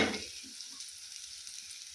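Chopped amaranth leaves with tender stems drop into a hot oil tempering of onion, green chilli and dried red chilli, a loud burst of sizzle at the start settling into a steady close frying hiss with faint stirring knocks.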